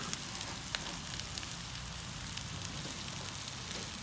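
Top round steak sears in a hot pan with a steady, close crackling sizzle and scattered pops, unbroken throughout.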